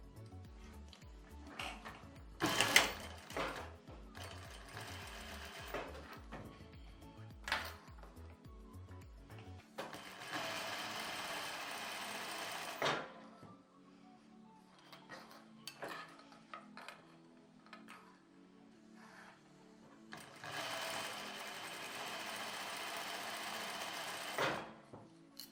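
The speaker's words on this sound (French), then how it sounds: "On commence par un côté, on va venir piquer notre biais fermé." A domestic sewing machine stitching folded bias binding onto a fabric baby bib, bursts of fast mechanical whirring and needle clatter lasting a few seconds each, separated by quiet pauses and small handling clicks.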